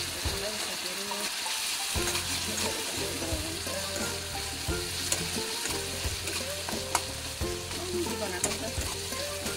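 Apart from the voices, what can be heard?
onion, turmeric and Kashmiri chili frying in pan for wachippa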